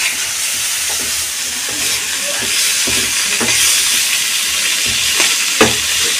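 Ridge gourd and potatoes fry in a pan with a loud steady sizzling hiss, broken by occasional scraping stirs and a sharp clink near the end, close up and without talk.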